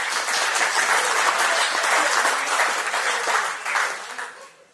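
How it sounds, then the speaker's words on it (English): An audience applauds steadily through a lawn bowls tournament prize draw, a dense wash of clapping that holds loud and even, then thins and fades in the last second. "Big round of applause for Nikki"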